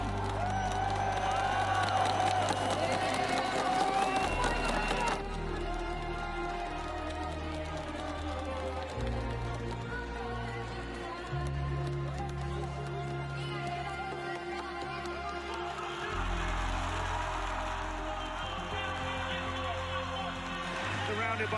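A Brazilian crowd roars and cheers at a Rainbow Six Siege esports final in Rio, a loud, sustained wall of voices, whoops and chanting under booming arena music, swelling again near the end.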